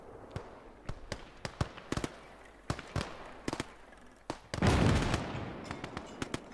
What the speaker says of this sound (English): This gun, placed in the middle of the road, is pounding the Russian soldiers with HE rounds.